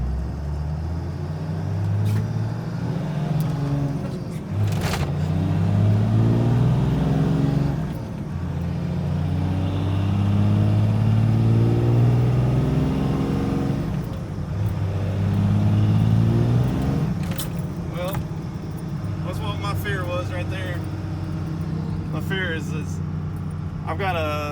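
A 12 valve Cummins diesel truck accelerating along a straight road, its engine droning and rising in pitch through gear changes, heard from inside the cab with someone speaking over it.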